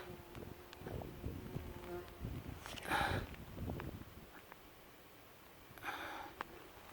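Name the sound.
bumblebees buzzing around rocks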